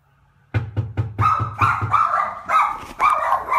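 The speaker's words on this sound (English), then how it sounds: "they have learned when they hear something at the door, they should go run and bark at it" Dogs barking at the door, a quick run of sharp close barks at a steady rhythm that blurs into louder, overlapping barking and yips, with no talk.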